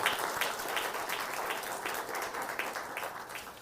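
A church congregation applauding during a Sunday worship service, a fairly faint, even wash of many hands clapping heard from a distance for a few seconds.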